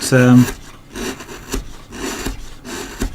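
Hand chisels carve wood for a dragon figure in short, rasping scrapes repeated at an irregular pace, close and fairly loud, with a brief voice at the start.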